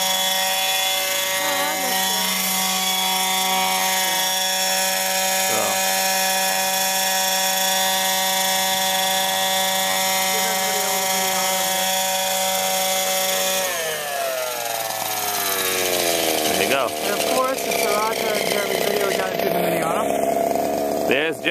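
Radio-controlled Whiplash helicopter with nav lights flying nearby, its steady high rotor and motor whine loud and continuous, pitch shifting and wavering as it maneuvers, with people talking over it.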